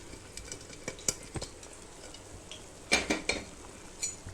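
Spoon scraping and clinking against a pot while boiled peas are stirred into thick masala sundal gravy, a soft faint sizzle beneath scattered knocks that cluster into a louder burst near the end.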